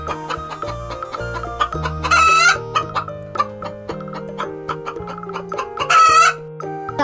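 Chickens and a rooster in an animated cartoon cluck and crow over a bouncy music track, with two loud, drawn-out crows standing out amid the melody.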